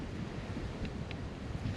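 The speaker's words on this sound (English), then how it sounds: "the cold north wind is blowing in here at this angle" A cold north wind gusts steadily across an open outdoor spot with a tree stump, a continuous near rushing buffet on the microphone with no talking.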